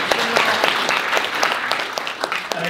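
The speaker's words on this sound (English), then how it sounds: "So clap please for Michael." Brief, lively applause from a tech conference audience for a fellow open-source developer, a dense patter of claps at steady volume.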